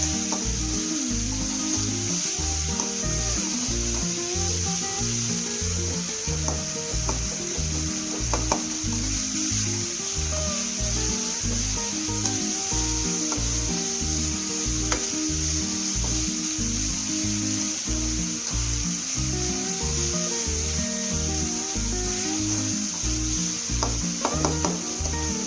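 Tomatoes and onions sautéing for bisibelebath, a continuous loud sizzle with a steady rhythmic hum beneath it and occasional faint stirring clicks, no talking throughout.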